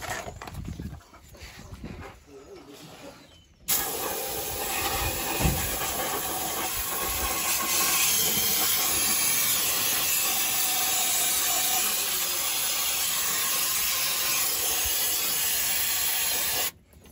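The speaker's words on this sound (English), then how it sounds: "we're gonna use some brake cleaner, but Dusty can't get the straw in there." Brake cleaner sprayed from an aerosol can into a truck's front differential that filled with water, a steady loud hiss that starts abruptly and runs unbroken for about thirteen seconds before cutting off.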